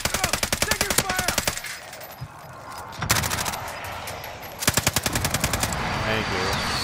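Light machine gun fire in a video game: long rapid bursts open the clip, a short burst comes near the middle, and another sustained burst follows. The shots are loud and close, with a faint voice under the gaps.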